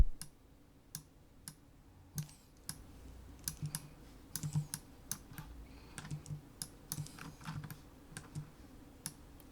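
Computer keyboard keys are pressed while someone models in 3D software, giving scattered, crisp close-up clicks and taps in irregular bursts.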